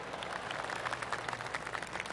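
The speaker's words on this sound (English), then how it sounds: "Oh, golf clap." Polite golf clapping from a gallery in the PGA TOUR 2K25 video game, a steady soft patter of many hands lasting a couple of seconds at low level with no voices.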